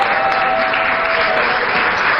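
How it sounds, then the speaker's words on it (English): Dense studio audience applause on a Ghanaian Saturday evening television show, a loud continuous wash of clapping with no talking over it. "I think I need a better round of applause."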